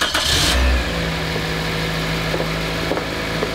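A Toyota car engine cranks and catches right after a starter replacement, with a loud burst at the start, then a steady running idle with a low hum and small clicks.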